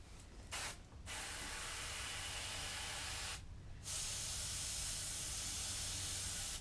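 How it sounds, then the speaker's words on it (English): An airbrush sprays in long hissing bursts with brief pauses between them, its loud steady air stream sputtering slightly from a clogged nozzle. "spray is really speckly. That usually means some kind of clogging."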